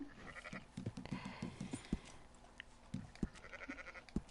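Sheep in the video game Red Dead Online bleat in a series of short rhythmic cries, fairly quiet over a soft ambient game background.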